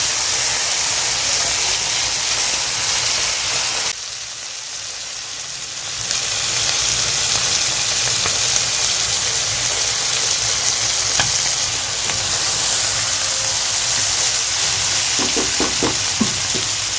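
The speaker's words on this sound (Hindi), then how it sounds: "टमाटर जो हमारे स्पाइसेस है अच्छी तरह से भुने जाएं।" Tomatoes and spices fry on a tawa for dhaba-style mutton kaleji, a loud, continuous sizzle with stirring scrapes, briefly dipping then returning full, with a few light clicks near the end.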